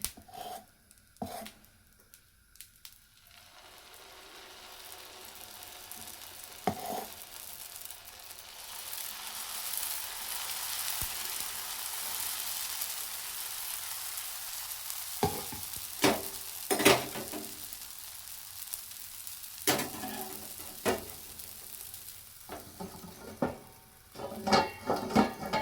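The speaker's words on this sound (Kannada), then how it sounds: "ದೋಸೆ ಎಲ್ಲರಿಗೂ ಈ ಸೌಂಡ್ ಇಷ್ಟ ಆಗುತ್ತೇನೋ ಗೊತ್ತಿಲ್ಲ, ನನಗಂತೂ ಇಷ್ಟ ಆಗುತ್ತೆ" Dosa batter sizzling on a hot pan, a steady hiss of frying that swells and holds for many seconds, with occasional scraping and clinking of a utensil against the pan near the start and end.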